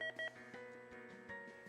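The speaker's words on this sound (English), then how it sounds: "the XT is dumping all the air from the cuffs. A beeping sound can be heard during this process." A Kodys Hadeco Smartdop XT six-port automatic ABI Doppler beeps while dumping air from its cuffs, with two short electronic beeps near the start and a fainter tone later, all over a steady hum.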